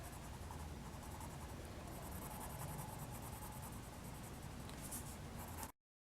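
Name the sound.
coloring the bottom of paper with a marker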